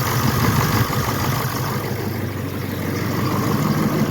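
A 7.3L Powerstroke diesel truck engine idling in freezing cold just after starting, a steady, loud low rumble with a constant throb that holds evenly throughout with no voices.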